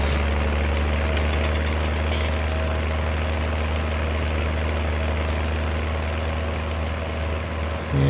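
A tractor engine idles steadily in the farming video game Farming Simulator 19, a constant low rumbling drone with a faint hum on top that holds unchanged for about eight seconds, with no talking.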